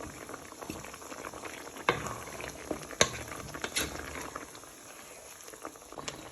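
Lemon and garlic chicken being stirred in a pan, a steady bubbling sizzle with soft wet clicks and scrapes of the spoon running around the sides, close and fairly quiet.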